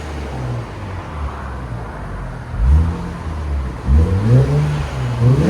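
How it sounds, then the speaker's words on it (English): A 2021 Infiniti Q60 Red Sport with an ARK cat-back exhaust idles low, then revs twice with a rising growl, each rev followed by a quick blow-off valve release as the engine settles back. "you can hear the blow-off valve"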